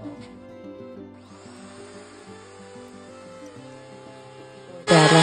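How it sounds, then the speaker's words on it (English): A wood router fitted with a straight bit hogs out the body of a handmade guitar in shallow passes, giving a steady close motor whine with cutting texture, rising to a louder burst at the very end. "So here, just routing out with a straight bit, a little at a time"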